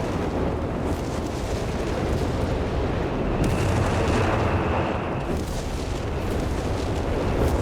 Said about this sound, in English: Got some artillery going off here. Those bishops are still delivering their high explosive sermons.